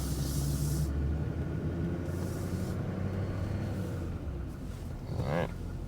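A GMC 3500 Duramax diesel pickup idling and creeping in four-wheel drive, a steady low engine rumble inside the cab with a brief hiss and clunk near the end.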